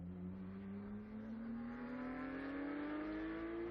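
A Porsche race car engine screams during Carrera Cup Benelux qualifying, a loud, continuous high-revving note that climbs steadily in pitch as it accelerates, heard alone with no voices.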